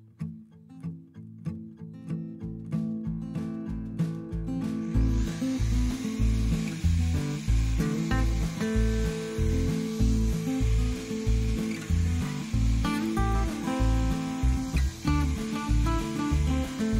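A FARTOOLS renovator power tool brushes and sands wood planks. After a few short bursts of starting it runs steadily, with a loud motor hum and rhythmic pulsing grinding against the wood.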